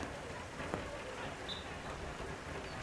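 Heavy downpour falling across a hockey pitch during a women's Premier One match, a steady dense hiss of rain on a waterlogged surface, continuous and enveloping with no clear voices.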